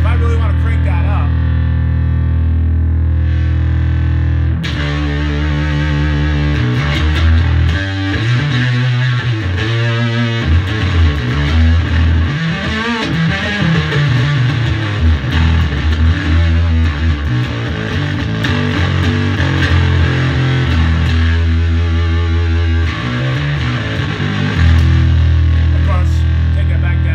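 A bass guitar played through a DOD Boneshaker distortion pedal, thick and gritty, with a quiet clean note first, then a loud, fuzzy riff running continuously.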